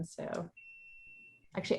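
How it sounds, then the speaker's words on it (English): An office alarm gives a thin, steady electronic tone that holds for about a second in a quiet gap between bursts of a man's speech. "You can probably hear the beeping in the background here."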